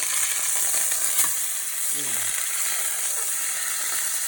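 A pot roast sears in a hot pan beside cut Vidalia sweet onion, giving a loud, steady hiss of browning meat, with a faint scrape or two as it is readied to be flipped.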